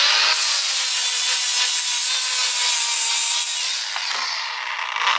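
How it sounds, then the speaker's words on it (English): A flap disc grinds a splined aluminum piece in a steady, loud, high-pitched abrasive whir that holds for about four seconds before dipping briefly and picking back up. "now I'm just working on this aluminum piece with the splines using the flap disc"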